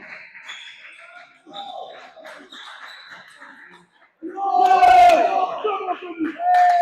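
Team members at a BCL Premier table tennis match stand at the bench shouting and cheering for their player. Scattered voices build into a loud, sharp burst of yells, followed by more shouts.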